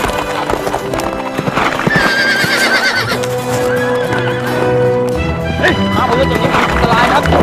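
A horse in a Thai TV drama neighs loudly while its hooves clip-clop steadily throughout, mixed with voices and background noise in a busy, close scene.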